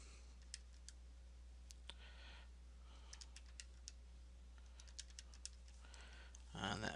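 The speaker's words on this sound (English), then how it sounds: "Alright, so type that in the calculator." Quiet, close taps of numbers being keyed into a calculator, coming as scattered light clicks in short bursts over a low steady hum, with a brief louder rustle at the very end.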